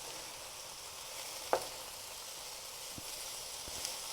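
Chicken pieces frying in a pan for quick chicken noodles, a steady soft sizzle running throughout with one brief crackle or clink near the middle and faint light taps later, no voices.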